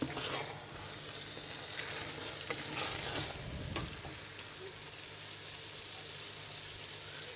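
Carrots frying in ghee for gajar halwa, a steady soft sizzle that swells briefly with stirring partway through, then settles into a quiet, even hiss.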